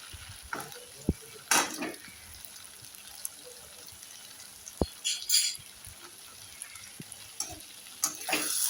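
Labra, a mixed vegetable dish, cooks in ghee in a pan with soft frying hiss and scattered utensil taps and stirring scrapes, quiet with intermittent sharper clicks.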